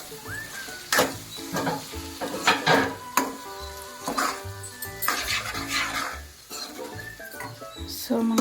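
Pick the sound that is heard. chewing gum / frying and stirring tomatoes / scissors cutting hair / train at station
frying and stirring tomatoes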